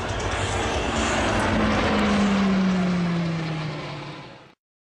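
An E-2 Hawkeye propeller aircraft flies past at a beachfront air show, its loud engine roar swelling to a peak with a falling pitch as it passes, then fading quickly away.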